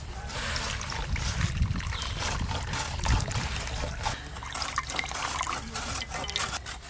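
Mashed beet pulp is strained so the juice trickles and drips through. The liquid sound is close and continuous, with a few stronger splashes, and no one talks over it.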